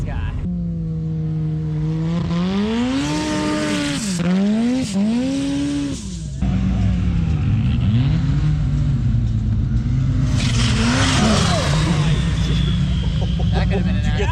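A boosted Pro R dune buggy on the St Anthony, Idaho sand dunes revs hard and climbs through repeated throttle surges while standing up in a wheelie. The engine is loud and close, with tire and sand noise beneath it.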